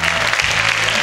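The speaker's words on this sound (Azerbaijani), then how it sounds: "Özünüz-özünüzü bir gür alqışlayın." A studio audience at a talk show applauding, a dense burst of clapping heard loud and close throughout.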